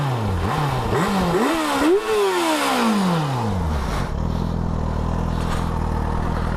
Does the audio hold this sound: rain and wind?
no